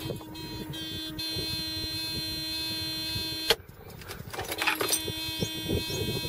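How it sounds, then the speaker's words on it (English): A steady electronic warning buzzer with stacked harmonics drones inside a 1986 Mercedes-Benz 560SEL, cuts off abruptly, then returns briefly amid rustling and clunks. "Let me get rid of that buzzer."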